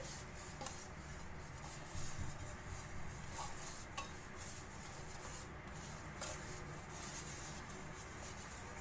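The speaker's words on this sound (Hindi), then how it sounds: "यहाँ पर मैंने 9 इंच का बेकिंग पैन लिया है और मैंने ग्रीस करने के लिए तेल डाला है" Oil is spread across a 9-inch baking pan, making a quiet, continuous rubbing and scraping with soft recurring strokes against the metal.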